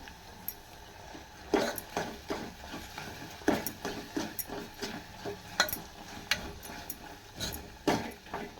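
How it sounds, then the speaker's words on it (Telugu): A spoon scraping and knocking against a pan in an irregular rhythm, close by, as a thick coconut barfi mixture is stirred over low heat, with a faint sizzle beneath. "బాగా కలుపుతూనే ఉండాల"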